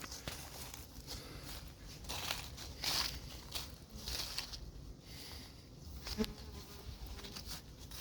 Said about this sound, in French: Je suis surpris de voir autant d'abeilles voler là.